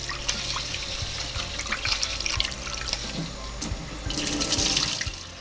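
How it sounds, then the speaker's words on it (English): Tap water runs steadily into a pot of rice being rinsed, with splashing, trickling and swishing as the grains are stirred by hand, close by, growing louder toward the end, no talk. "I'm just gonna quickly rinse the rice"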